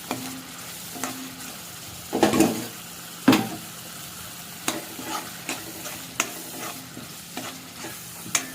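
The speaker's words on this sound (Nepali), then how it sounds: "अब यो मसलालाई म एकछिन मजासँग भुट्छु" Masala for a potato and pointed gourd curry sizzles steadily in a pan, broken by repeated scraping stirs and spoon knocks against the metal, close and with no voices.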